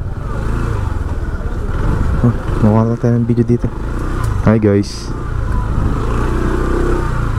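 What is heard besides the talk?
motorcycle riding past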